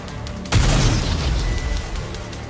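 Homemade explosives go off in the video game Nikke: Goddess of Victory, a sudden loud boom followed by a sustained rumbling, crackling roar that carries on for about two seconds.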